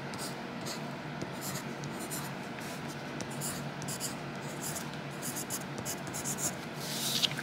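Pen writing by hand on a birthday card, continuous soft scratching and rubbing strokes close up for several seconds, with faint brief rustles.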